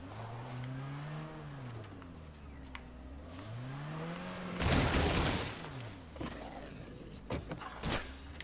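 An in-game car from the survival game State of Decay 2 revs and drives, its engine pitch rising and falling in waves, broken by a burst of loud crashing noise midway and a few sharp impacts.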